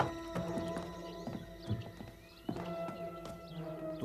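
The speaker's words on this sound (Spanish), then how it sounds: "Cuida del caballo." Cartoon horse hooves clip-clop in spaced beats, and a short whinny breaks in among them over light background music.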